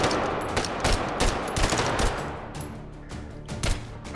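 Rapid gunfire in the VR shooter Hot Dogs, Horseshoes & Hand Grenades, a steady stream of sharp cracks and bursts at moderate loudness with no talking.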